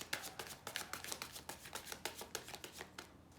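A deck of tarot cards is shuffled by hand in a quick, steady run of soft riffling snaps, close and fairly quiet, with no voices.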